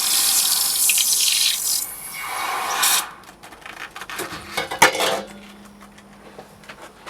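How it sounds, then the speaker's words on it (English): Freshly cast molten silver skulls plunged into water for quenching give a loud bubbling hiss that fades after about three seconds, followed by quieter splashing, clinks and handling sounds. "let's see how we get on with the quench"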